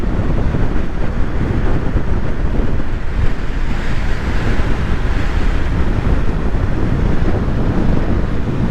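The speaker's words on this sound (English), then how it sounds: "it's a bit windier here" Strong wind gusting over open water with waves and surf, a steady loud roar buffeting the microphone throughout without any voices.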